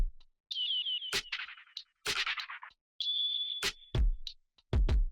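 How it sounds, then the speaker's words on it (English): A drum loop with bird sounds: high, whistling chirps and warbles alternate with sharp percussive hits and low kick thumps, in short separated bursts with silent gaps between them. "And then I just added this drum loop that has birds in it"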